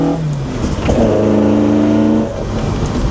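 Restomod Alfa Romeo Junior GT climbing a hill under hard acceleration: a loud, close mid-pitched engine note rises steadily in revs for a couple of seconds, then eases off, with no talk.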